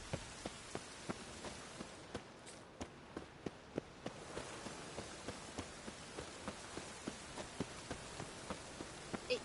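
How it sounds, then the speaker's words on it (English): Rain falls steadily in The Witcher 3, a soft, even hiss with a regular patter of footsteps striding through it at a quiet level. "It just rains and rains"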